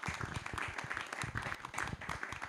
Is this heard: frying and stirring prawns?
no